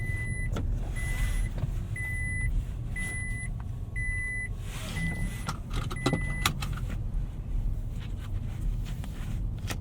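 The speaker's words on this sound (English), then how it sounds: "Here's our Seatbelt warning." A 2021 Nissan Altima SR VC-Turbo sounds its seatbelt warning chime in the cabin, a steady series of about seven evenly spaced beeps over the low hum and rumble of the car.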